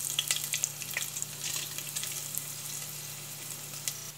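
Black pepper and cumin fry in hot oil with a steady close sizzle, sharp crackling pops clustering at the start and thinning out, then a softer hiss.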